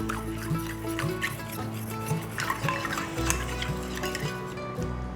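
Winter melon ball mixture with sugar, white pepper and starch being stirred in a bowl, giving soft repeated scraping and clinking of a utensil against the bowl, steady and close, with no talking.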